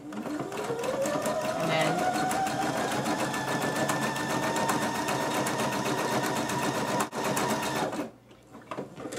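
A sewing machine runs a zigzag stitch through sweater fabric, a fast, steady mechanical whir lasting about eight seconds before stopping abruptly.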